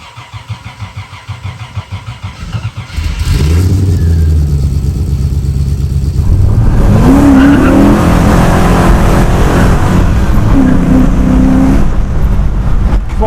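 A Triumph Toledo 1300 fitted with a 270bhp 4-litre V8 starts up loudly nearby after some background noise. It then revs and accelerates hard with a rough, powerful roar and a sustained engine drone, and there are hints of tyre noise.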